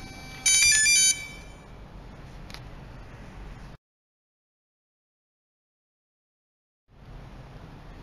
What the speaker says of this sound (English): Press the key icon to open it with the music.